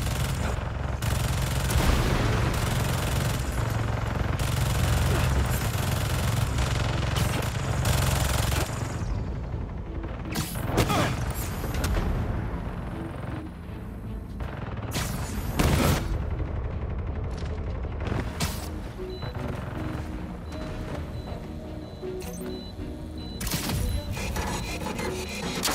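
Heavy gunfire and explosions tear through a fight to destroy turrets in the video game Spider-Man 2, dense rapid bursts for the first several seconds, then scattered loud impacts and blasts over a busy game soundtrack.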